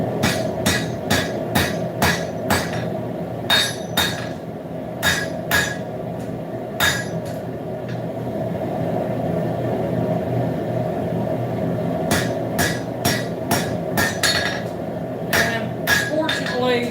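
A hammer pounds steel stock flat at a forge while horseshoes are shaped into letter openers, with sharp ringing blows in fast bursts and a pause midway, over a constant low shop hum.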